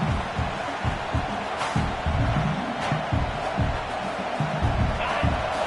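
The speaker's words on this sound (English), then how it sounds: "This crowd, full throat, spreading the eardrums" A full-throated stadium crowd roars through a football game, a dense, continuous wall of cheering with scattered louder swells and a few sharp accents.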